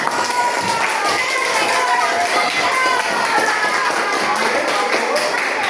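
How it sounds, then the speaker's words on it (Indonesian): Schoolchildren clapping together in a classroom at the end of a lesson, a busy continuous patter of hands with children's voices chattering over it throughout. "Tepuk tangan untuk kita semua."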